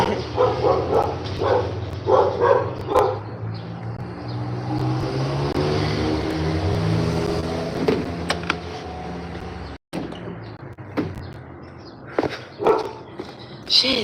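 Pit bulls and chihuahuas barking at a house: loud, repeated barks come close at first, then fade under a steady car-engine hum, with sharp clunks and a few more barks near the end.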